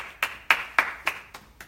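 About six separate, crisp hand claps sound at a slow, steady pace, close and fairly clear, as a small audience offers a round of applause.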